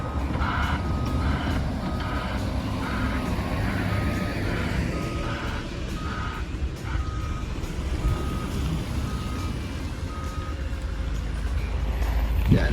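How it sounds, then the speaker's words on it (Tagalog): Steady repeating reversing beeps from a dump truck clearing snow in the city of Luleå, Sweden, sounding over continuous heavy engine rumble and traffic noise. "So here come another dump truck."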